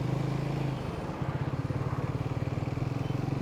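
A Triumph Speed 400 motorcycle out on a test ride after warranty repairs, its engine thrumming steadily and close, with a rhythmic pulsing throb and rushing wind noise throughout.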